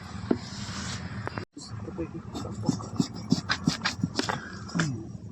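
Elephant foot yam (suran) being sliced with a knife, giving a run of short, close cutting and scraping strokes in an uneven rhythm, with brief pauses between cuts.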